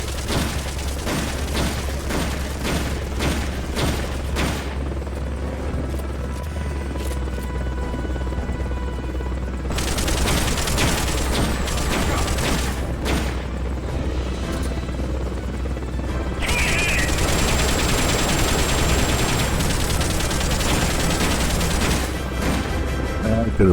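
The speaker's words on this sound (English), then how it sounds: "he's got the machine guns that miss on the side" Rapid machine gun bursts from a helicopter's side-mounted guns in Metal Gear Solid: Peace Walker crackle in fast repeated volleys over a loud, steady rotor drone, intensifying in the later stretches.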